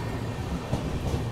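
Satavahana SF Express running slowly near Bibinagar, a soft steady rumble of wheels and coach rattle with faint joint knocks, heard from onboard, no voices.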